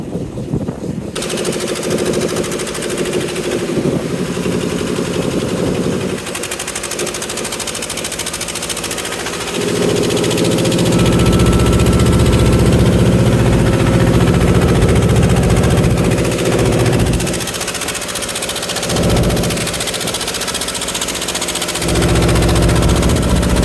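A fishing trawler's engine runs steadily at sea during stormy weather, a loud continuous low rumble with a rapid mechanical chug that swells and dips with the waves, heard alone throughout.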